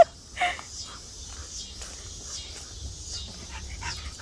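A dog on a homestead whimpers faintly and pants softly nearby, a short yip near the start, then quiet breathy sounds over a low background.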